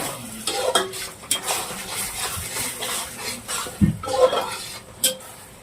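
A utensil stirs egg biryani masala in a pan in uneven scraping strokes, with metal clinks and knocks against the pan over a soft sizzle, close and without talk.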